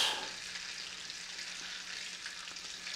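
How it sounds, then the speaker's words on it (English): Butter melts in a pan while pork tenderloin is prepared, giving a faint, even hiss of sizzling that holds steady throughout, close but quiet, with a low hum underneath and no speech. "we're just going to let that butter melt"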